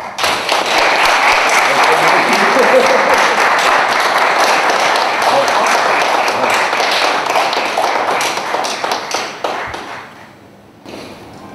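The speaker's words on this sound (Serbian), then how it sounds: "Aplauz za Miloša" Sustained audience applause at the opening of a sculpture exhibition, loud and dense clapping from a crowd, continuing steadily for about ten seconds before fading out.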